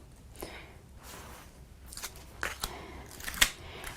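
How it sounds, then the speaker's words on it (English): Backing peeled off a large sticky sheet stuck behind white card, heard as a few close, dry rasping strips with a sharp crackle near the end, alone without talk. "I've just put a big sticky sheet behind that, so I'm going to peel that off"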